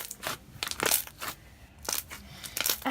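Clear slime squished and worked by hand, giving bursts of wet crackling, popping and crinkling squelches in irregular clusters, close and fairly loud with no talking.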